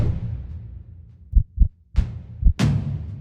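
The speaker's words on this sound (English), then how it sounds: "Is that a heartbeat?" Heartbeat sound effect in a game showcase trailer: a series of deep, loud thumps in paired lub-dub beats, rising in intensity over a low rumbling bed, heard alone with no talk.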